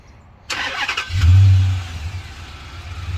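A stock 2014 Dodge Charger R/T V8 with an aftermarket air intake turns over and fires, then gives one deep rev that settles into a rumbling idle, loud and close with no voices.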